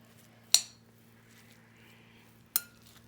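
Atchara ingredients being stirred in a bowl, with two sharp clinks of a utensil against the bowl spaced about two seconds apart over a quiet, faint background.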